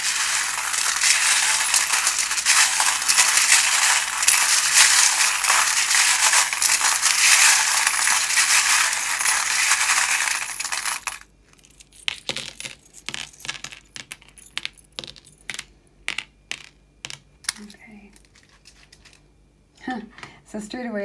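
Metal charms shuffled together for a tarot-style charm reading in a steady jingling, clinking rush for several seconds, then a pause and scattered individual clinks and taps, close and fairly loud.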